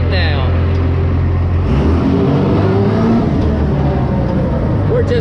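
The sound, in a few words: monster truck engine revving as put into first gear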